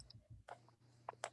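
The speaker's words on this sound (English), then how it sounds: "While you're typing that in" Several quick keystroke clicks on a computer keyboard, with a short pair near the middle and another burst toward the end, fairly close over a steady low hum, no speech.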